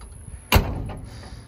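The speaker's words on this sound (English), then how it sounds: "Door shut's awesome." The door of a Jeep J10 pickup truck shuts with a single solid, heavy thunk up close, followed by a short fading rattle.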